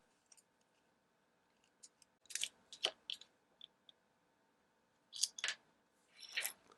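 Handling of a stainless steel razor blade scraper as its blade holder is loosened: sparse sharp clicks and scraping rattles in a few short bursts separated by near silence, close and fairly quiet.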